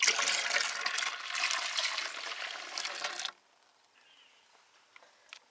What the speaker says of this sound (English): I'm going to add my another 4 cups of water.